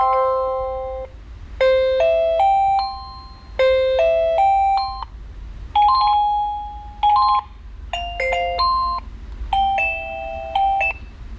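An electronic doorbell unit set to a different alarm mode plays a run of bright synthesized chime melodies, several short tone phrases in succession, loud and clear with no talking.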